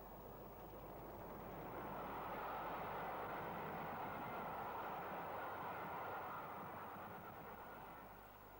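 A Standard class 4-6-0 steam locomotive hauls a westbound milk train of six-wheeled tank wagons west of Basingstoke, a steady rolling rumble swelling as it passes at moderate distance, then easing off, with no talk.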